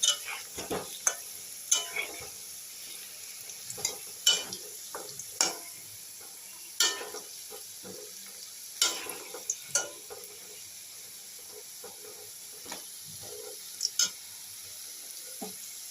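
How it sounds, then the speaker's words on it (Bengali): Potato pieces fry in oil until deep reddish-brown: a faint, continuous sizzle beneath scattered sharp pops and clicks of utensils against the pan, spaced irregularly across the stretch. "আলুগুলো একদম লাল লাল করে একদম লাল লাল করে ভেজে নিয়েছি"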